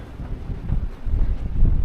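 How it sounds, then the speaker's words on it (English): Strong wind on an upland walking trail in the Yorkshire Dales buffets the microphone with a steady low rumble that gusts and swells, no voices present. "Oh, it's blooming windy today."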